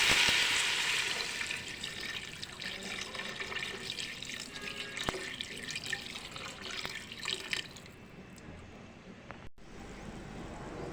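Steady splashing and trickling of water running into a pot, fairly close, with a brief clink partway through before the flow softens.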